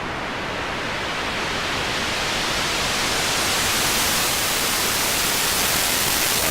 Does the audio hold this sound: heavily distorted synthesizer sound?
yes